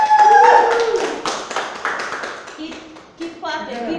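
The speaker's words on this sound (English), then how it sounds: "Keep clapping, keep clapping." An audience at a poetry event claps for a poet taking the stage, with dense close applause and a voice speaking over it.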